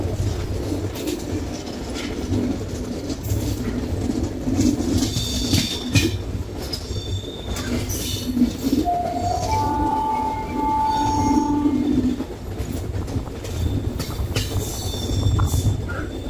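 A MEMU passenger train rolls past the Yesvantpur loco shed, a steady loud rumble of wheels on rails with squealing metal tones rising mid-way, heard from on board with no talk.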